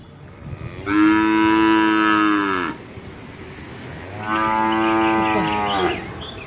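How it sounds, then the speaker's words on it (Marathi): Two long, loud moos from cattle nearby, separated by a short pause, with no talking. "इकडे गायी आहेत आपल्या सगळ्या."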